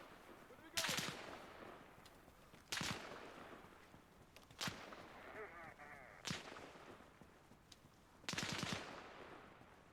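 Video game gunfire cracks out in about five sharp, loud bursts spaced a couple of seconds apart, some as quick rattling volleys, over a quiet background with faint game voices in between.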